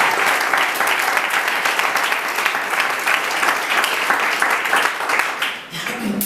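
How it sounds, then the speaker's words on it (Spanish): A church congregation applauding during a sermon, loud sustained clapping with crowd energy that continues for several seconds before tapering near the end. "Y a su nombre denle fuerte aplauso al Señor."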